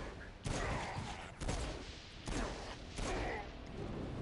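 Pistol shots in Saints Row: four loud sharp bangs spaced about a second apart, each with a short echoing tail, fairly near and alone.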